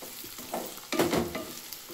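Bitter gourd frying in a pan, a soft, close sizzle with a brief stirring scrape and a short burst of crackling partway through.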